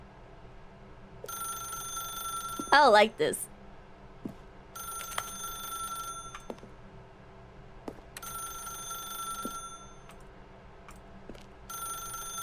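A telephone rings in The Stanley Parable video game, with repeated electronic bursts separated by short pauses. A brief voice breaks in near the start.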